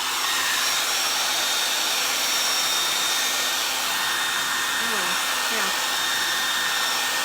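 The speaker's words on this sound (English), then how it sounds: "let me get the blow dryer" A blow dryer runs steadily at close range, drying wood stain on boho feather decor, its broadband whoosh unbroken throughout while a voice speaks briefly near the end.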